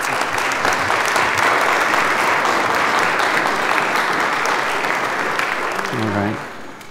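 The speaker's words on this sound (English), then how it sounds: "we reach out to her in our applause right now" A church congregation applauds in a long, loud, even roar of many hands that keeps going for several seconds, then fades as a voice begins to speak at the very end.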